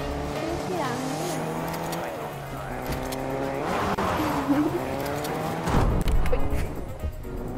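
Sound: car driving in a PvP video game

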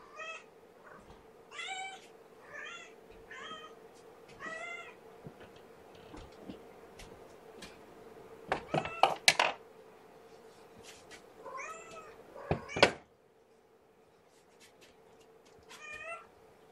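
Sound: kittens meowing

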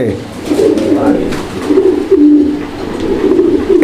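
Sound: Lotan roller pigeon cooing and rolling

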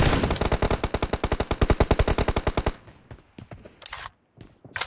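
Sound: gunfire in a video game

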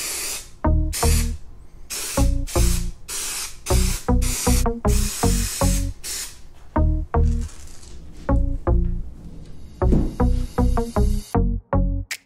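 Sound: spray adhesive being sprayed

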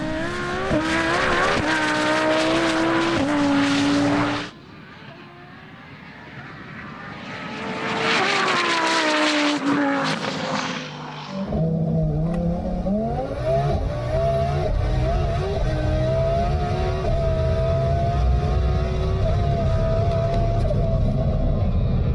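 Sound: 1500hp car making a full drag racing pass

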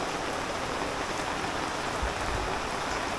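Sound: rain falling

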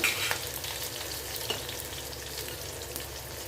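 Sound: onions and tomatoes sautéing in a pan

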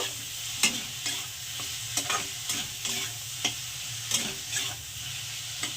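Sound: spices frying and being stirred in pan

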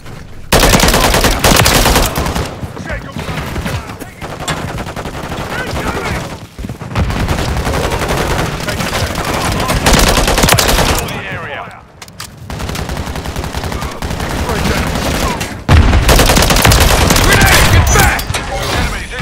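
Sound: gunfire in video game Call of Duty MW3

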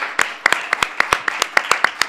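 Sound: audience applause

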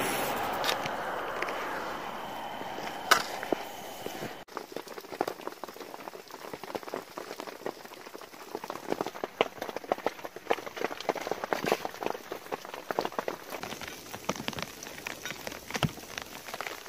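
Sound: rain falling on a surface

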